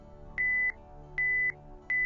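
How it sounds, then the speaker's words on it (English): Dive computer alarm warning of a fast ascent rate: three evenly spaced high electronic beeps, each lasting about a third of a second, clear and alone. "Computers have numerous audible alarms that call your attention to important information"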